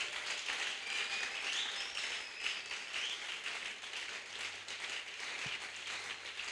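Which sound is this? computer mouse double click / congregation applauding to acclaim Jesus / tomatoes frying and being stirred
congregation applauding to acclaim Jesus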